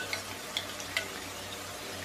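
Beaten eggs cook in a pan beside chicken for chilli chicken fried rice over a lowered flame, a faint soft sizzle with a few light ticks and taps of a spoon or spatula, close and quiet.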